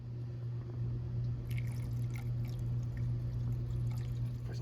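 A 50-50 mix of water and CLR poured into a TR6 heater box being restored, a faint trickling and dripping over a steady low hum, with small splashes from the middle onward.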